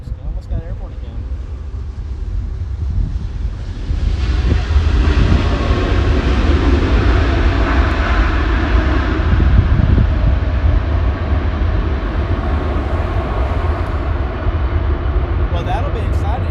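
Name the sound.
Hawaiian Airlines flight 10 landing at LAX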